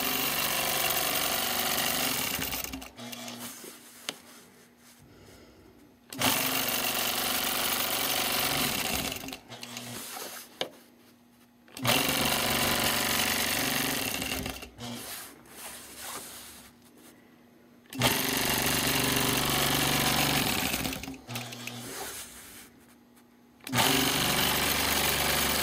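A quilting sewing machine stitches a motif in four sustained, steady bursts, each separated by a short silent pause, close and clear with no talking.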